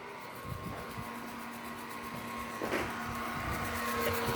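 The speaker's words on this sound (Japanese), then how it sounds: "はい、来ました、掃除機。" Household vacuum cleaner running close by indoors, a continuous steady whirring drone with a faint whine that slowly grows louder, with a few small knocks and no talking.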